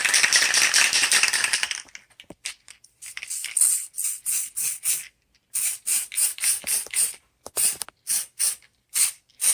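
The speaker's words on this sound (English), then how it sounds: "You could tell when you spray it, it starts to get a little spongy." Spray can of paint hisses onto urethane foam rubber, first a long continuous spray, then a rapid series of short, close, sharp bursts in quick rhythm with brief silences between.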